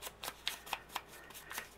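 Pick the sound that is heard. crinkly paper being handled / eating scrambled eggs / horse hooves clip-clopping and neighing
crinkly paper being handled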